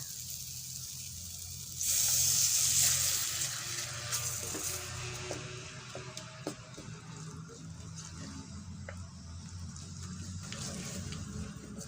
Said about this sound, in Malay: masukkan sedikit asam jawa, tauco dan air secukupnya. Gaul rata.